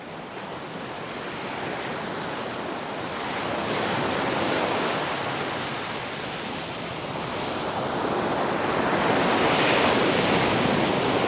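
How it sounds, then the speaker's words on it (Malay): Ocean waves at a beach with a sea breeze roll in a continuous loud wash of surf, swelling and easing gently, with wind noise and no talk. "Oh, tenangnya bunyi laut ni."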